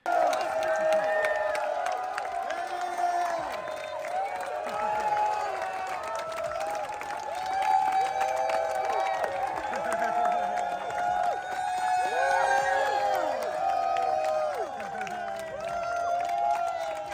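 Apple staff cheer and whoop continuously at WWDC23, a lively crowd with scattered applause and shouts, with voices calling out throughout.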